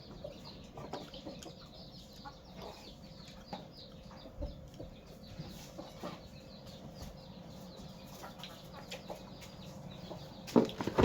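Chickens clucking around eggs, a series of soft, irregular clucks fairly close against a quiet background, ending with a brief louder scuffle.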